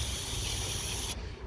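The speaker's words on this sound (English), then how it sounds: "got a little bit of brake cleaner and I brushed off a little bit." Brake cleaner hisses from an aerosol can onto a component of a diesel P38 Range Rover during water pump and fan belt work, a steady broad spray lasting about a second before cutting off abruptly, close and alone.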